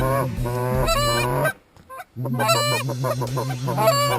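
Canada geese honk loudly and close as they fly in toward a hunting spot in northern Minnesota, a dense overlapping chorus of calls with a brief lull in the middle.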